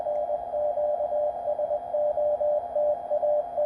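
A weak QRP Morse code signal received on a QCX-mini transceiver, heard as a steady keyed sine tone pulsing in dots and dashes over a low, quiet noise floor, with no talking.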